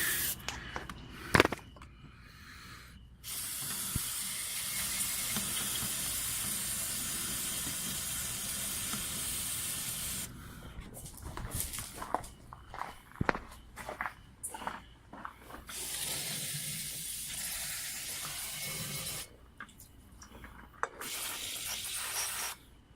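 Several long hissing bursts of aerosol cleaner sprayed onto a Honda Integra engine plate, close and loud, separated by brief pauses and some handling clatter.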